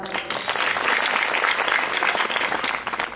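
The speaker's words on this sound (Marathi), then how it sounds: "तरण्या पोरांसाठी एकदा टाळ्या वाजवा" Audience at a village bharud comedy performance clapping together, a dense, steady burst of applause that holds for several seconds, loud and close with faint crowd murmur.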